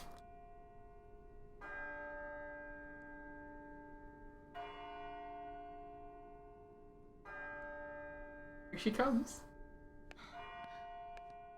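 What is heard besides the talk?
bell tolling at midnight in video game Birth by Sleep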